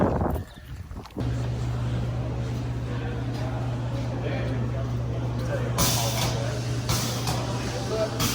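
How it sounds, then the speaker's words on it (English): Strong winter wind at the Cedar Point amusement park buffets the microphone with a steady rush and low hum, and gusts swell louder toward the end. "The sun's coming out now, so it's very windy."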